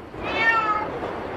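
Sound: Van cat meowing

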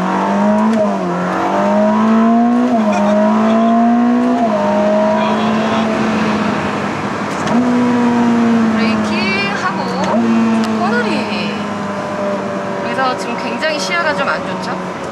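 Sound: Ferrari SF90 Stradale downshifting and accelerating

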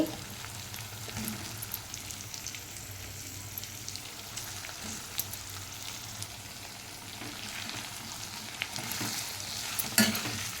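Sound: frying and stirring drumsticks and potatoes for curry

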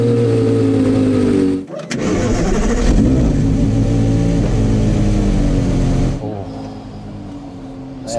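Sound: Porsche Carrera GT V10 engine starting

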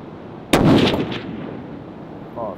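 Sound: rifle gunshot while zeroing the gun

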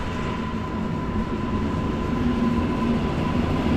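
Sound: train passing through station

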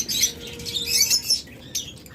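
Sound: caged birds at a bird farm, lovebirds, budgerigars, cockatiels

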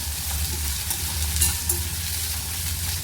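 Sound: onion frying in pan with mustard seeds and cumin

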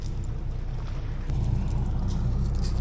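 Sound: cruise boat sailing through the Beagle Channel

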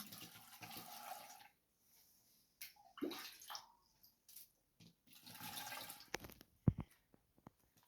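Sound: cold water poured into a jar of apples

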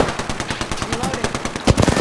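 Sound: gunfire in Apex Legends video game

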